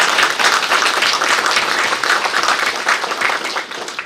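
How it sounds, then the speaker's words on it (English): Warm, steady clapping from a community audience applauding a scholarship winner, moderately loud and continuous with slight swells. "let's give a big round of applause to Galyua today."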